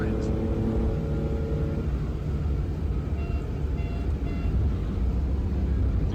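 A 1961 Maserati 3500 GT engine idles at about 1200 RPM while the car is driven over a bumpy road, a steady low rumble filling the cabin with cabin and road noise throughout. People talk over it.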